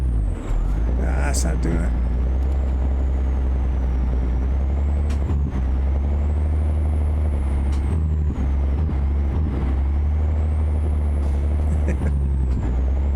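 Truck in American Truck Simulator on a snowy winter route, its engine droning steadily while short hissing air-brake bursts and clanks break in repeatedly; someone talks briefly over it.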